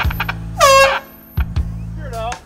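Loud air horn blasts go off during a prank, two separate bursts with a pause between them, mixed with shouting and yelling voices close by.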